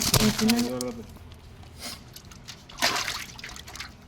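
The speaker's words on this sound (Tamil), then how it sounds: "தண்ணி பாதி கீழே ஊத்துறா." Water poured out at a village fishing spot, short trickling and splashing bursts near the mic, with people talking over and between them.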